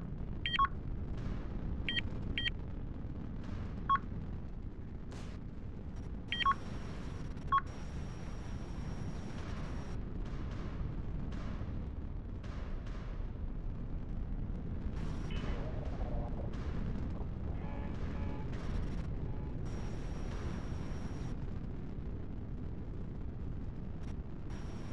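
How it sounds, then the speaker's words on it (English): Missile launches in a 5v5 space combat video game: a steady low rumbling roar runs throughout, punctuated by short electronic beeps and bright chirping tones that recur every second or two, with a few sharper bursts. "Missile launch."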